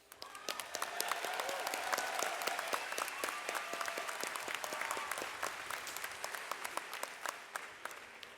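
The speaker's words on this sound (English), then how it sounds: "Let's give one round of applause" An audience at a Berkeley engineering graduate commencement applauds the graduates, sustained dense clapping with distinct sharp individual claps standing out, rising quickly and holding steady.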